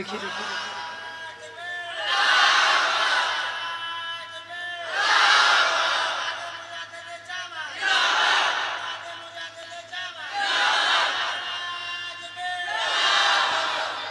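A large seated gathering shouts takbir in unison, five loud rhythmic group chants in call-and-response, each swelling for about two seconds with short pauses between, a leader's voice audible in the gaps.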